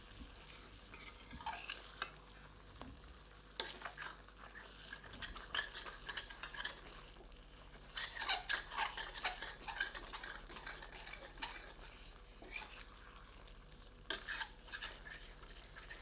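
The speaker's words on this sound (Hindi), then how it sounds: "बस हमें थोड़े थोड़े समय पश्चात करछी चलाते रहना है।" Mutton masala for Deoghar-style mutton atthey stirred with a ladle in a pan over low heat, a steady soft sizzle under repeated scraping strokes and occasional metal clinks, with no talking.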